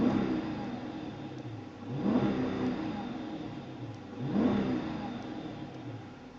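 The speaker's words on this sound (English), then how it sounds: "Here, let's hear the V8" A 2014 Dodge Charger R/T 100th Anniversary V8 idles with a low rumble, then twice rises into a revving surge that swells and falls back, close and unaccompanied by talk.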